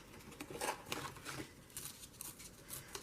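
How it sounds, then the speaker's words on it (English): A page is ripped out of a paper journal in a few quick, close, crisp tearing and crinkling bursts, with no talking. "And then I just rip it out"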